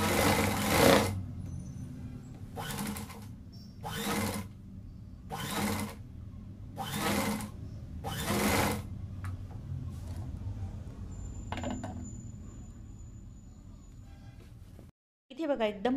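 A domestic sewing machine stitches cut fabric pieces together for a sofa-cum-bed cover, running in steady bursts of a few seconds each separated by short pauses, with someone speaking intermittently under the motor noise.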